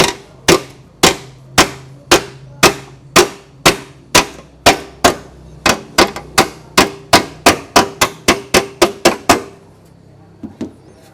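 A car fender is hammered back into shape in an auto body straightening job, about twenty-five sharp metallic clangs landing at an even pace, close and loud, then speeding into quicker blows before two softer taps finish.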